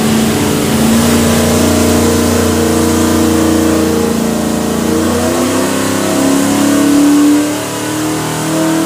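A 542-horsepower 427ci Small Block Chevy V8 crate engine built for a '95 Camaro roars loudly and steadily on a dyno. The revs climb in a long sustained pull, then ease off near the end.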